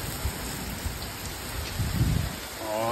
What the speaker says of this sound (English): You gotta be kidding me, it just started raining